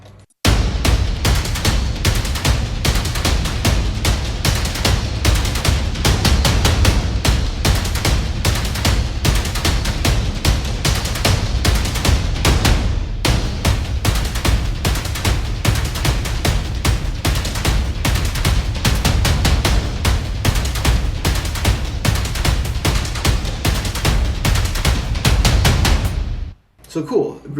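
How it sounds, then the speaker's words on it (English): Layered cinematic trailer percussion loop built from the percussion parts alone: dense, loud, driving drum hits with booming lows and harsh highs, continuous for nearly half a minute before stopping abruptly. "So with just the percussion bits, what you're hearing is this."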